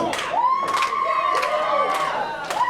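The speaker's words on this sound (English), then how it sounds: "this crowd does not like Ron Hunt." Wrestling crowd at a Prospect Pro Wrestling show jeering a wrestler, with repeated loud rising shouts and whoops swelling in bursts over a constant crowd roar.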